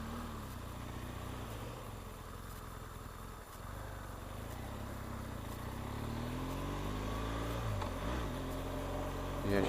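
2013 BMW R1200 GS motorcycle accelerating on a test ride, engine note rising steadily with a brief dip at a gear change, heard from the rider's position over a constant rush of wind.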